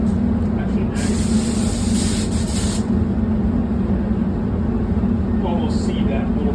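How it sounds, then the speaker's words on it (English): A paint spray gun hissing as it sprays primer, a continuous loud broadband spray that runs through the whole stretch with no talking, briefly sharper for a couple of seconds early on. "So whether you're spraying primer"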